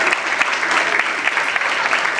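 Strong audience applause for a guest at a live radio station event, a steady wash of many hands clapping with faint voices mixed in.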